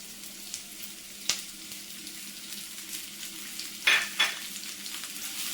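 Okra tipped into hot oil with curry leaves for a sadya side dish, a soft continuous sizzle close by with a few sharp spatula scrapes and clatters against the pan.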